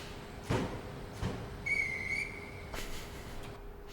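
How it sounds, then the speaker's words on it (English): Train whistle in Train Simulator 2021 on the Chatham Main Line, a short clear tone sounding once amid faint background clicks and thumps, no talk. "I like that whistle."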